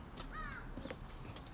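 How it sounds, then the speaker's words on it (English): Birds caw from a tree line once or twice, faint and distant against steady outdoor background noise. "Birds are in the tree line. I can hear them."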